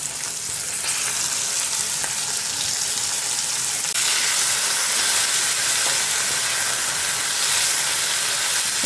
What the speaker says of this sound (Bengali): চিংড়ি মাছটা আগে একটু ভেজে নিচ্ছি।